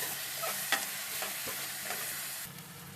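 Ginger garlic paste and chili powder sizzle in a pan for a boiled egg fry, a continuous close frying hiss with a few soft stirring scrapes.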